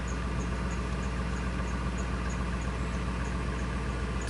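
A 1999 Ford F250 with the 5.4L engine idles steadily and evenly, a continuous low rumble close by with a faint rhythmic ticking on top and no talking.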